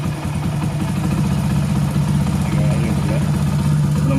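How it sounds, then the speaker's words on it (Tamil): Motorcycle engine running after being started during carburettor troubleshooting, a steady close low rumbling idle that is loud and continuous throughout. "ஓகே இப்போ நம்ம வண்டியை ஸ்டார்ட் பண்ணுறோம்."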